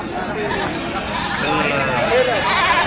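Goats bleat amid a busy goat market in Andhra Pradesh, with mid-pitched cries rising over a constant crowd murmur and nearby talk.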